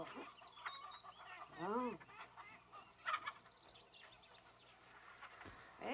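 Hens are fed handfuls of grain and cluck and squawk in short bursts, fairly close, while someone speaks briefly and quietly nearby.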